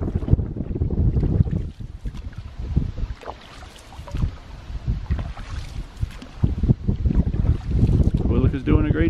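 A canoe moves across the water on a canoe ride, with paddle splashes and water sloshing mixed with heavy wind buffeting the microphone.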